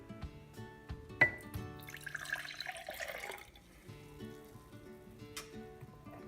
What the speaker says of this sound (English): So first we're gonna pour it in here just to test it out.